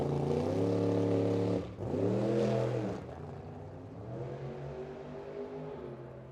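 A Buick Opel drag racing car revs hard at a drag strip, a loud close engine climbing in pitch through gear changes before easing to a steadier drone.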